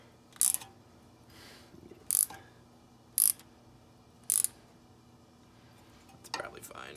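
A ratchet works a plastic wheel speed sensor bolt on a 2000-2007 Chevrolet Tahoe, giving four short, crisp clicking bursts spaced about a second apart, close and fairly quiet.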